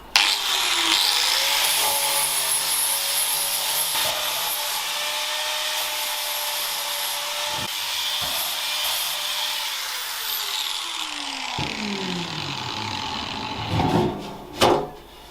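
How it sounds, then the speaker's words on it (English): A 120 grit grinding wheel smooths solder joints on a rusty guitar, giving a steady, close abrasive whine and rub that shifts in pitch before tapering off with a few brief scrapes. "So that's start with a 120 grit grinding wheel."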